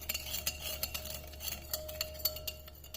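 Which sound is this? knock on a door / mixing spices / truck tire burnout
mixing spices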